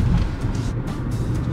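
Car driving on roads in Hungary, a steady low engine and road rumble heard from inside the vehicle, continuous and fairly loud throughout with no talk.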